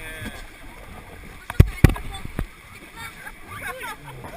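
Rafting paddles dig into river water with a few sharp, close splashes and gurgles while French-speaking people talk and call out paddling commands around them.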